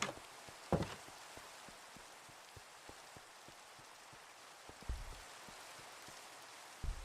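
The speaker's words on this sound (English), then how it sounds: "Yeah, the rain helps that vibe, but it also makes it difficult to like play and see." Rain in a small medieval-style video game town: soft steady patter with scattered sharp drips and occasional louder knocks, faint and quiet throughout, no voices.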